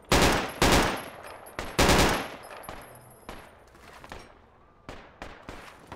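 Tank gunfire in the video game Project Reality, with several loud booming shots in quick succession at the start, then a rattling burst and scattered fainter reports trailing off.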